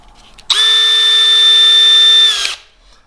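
A Milwaukee M12 Fuel cordless drill/driver spins up sharply and holds a steady, high motor whine for about two seconds before winding down, close and loud with no talking.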